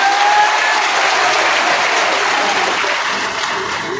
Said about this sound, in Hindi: बिहार के नाम पे जोरदार ताली बजा करके स्वागत करो।